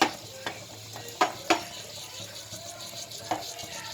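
Cashew nuts fry in a pan with a soft steady sizzle, broken by several sharp clinks and scrapes of stirring, close and without voices.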